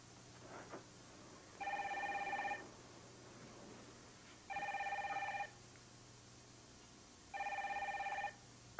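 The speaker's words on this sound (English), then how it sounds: "Is anybody going to get the phone?" A telephone bell rings in three separate bursts, each about a second long with quiet gaps between them, heard clearly with no talking over it.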